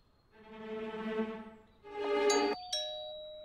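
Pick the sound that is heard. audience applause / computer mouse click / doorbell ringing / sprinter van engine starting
doorbell ringing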